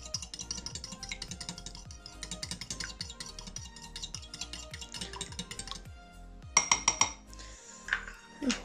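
A whisk or fork beats an egg in a bowl, producing rapid, regular clinking taps that run for several seconds, then a few louder scattered clanks of dishware.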